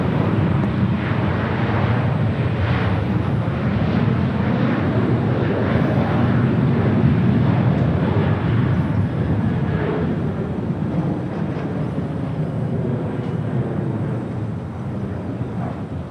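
A Korean Air Cargo Boeing 777 arrives at Los Angeles International Airport, its jet engines a loud, steady roar that swells and fades slowly over the whole stretch with no voices.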